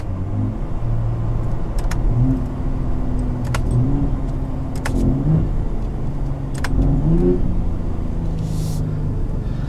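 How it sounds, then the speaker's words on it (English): A 2022 Ford F-150 Raptor pickup truck engine accelerates hard, its pitch climbing and dropping repeatedly as quick paddle-shifted gear changes punctuate the drone, heard from inside the cabin. "when it sounds this good, and when the paddles are this fun to use, I have no issue rowing through gears"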